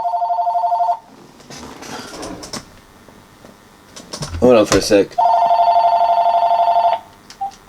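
A telephone rings loudly in short repeated electronic trills during a robocall, with a pause in the middle where someone speaks briefly before the ringing resumes.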